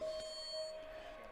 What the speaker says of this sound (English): then you can hear the beep in the background